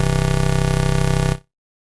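Synthesizer white noise pushed through a filter with a resonance boost, a dense buzzing tone pulsing rapidly and evenly before it cuts off abruptly into silence.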